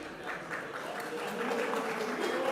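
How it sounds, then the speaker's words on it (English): Big round of applause from the crowd at a junior powerlifting championship after a heavy deadlift, a dense continuous wash of clapping that holds steady and swells slightly toward the end, with some cheering mixed in. "gets a big round of applause here"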